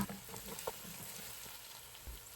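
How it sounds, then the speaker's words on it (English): A spoonful of paste fries with aromatics in a pan for black beans, giving a faint, steady sizzle with a few soft stirring taps. "stir this and fry the paste for about a minute or so with the other aromatics"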